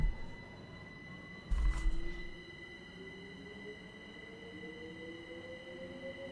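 A train pulls away in Train Sim World 2, its low rumble and rising motor whine building steadily, with a brief louder thump of wheels over a joint early on and a rail squeal drawing out toward the end.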